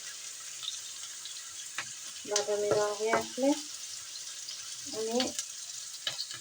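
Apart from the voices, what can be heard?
frying food in a pan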